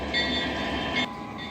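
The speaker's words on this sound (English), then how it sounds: "You can go a little faster on this train," An O scale model train runs on an outdoor layout with a steady rolling hum and faint metallic ringing tones that fade near the end. No one talks.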